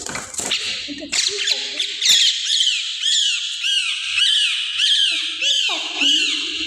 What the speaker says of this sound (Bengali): এই যে দেখুন, দুইটা শালিক পাখি পেয়েছি আমি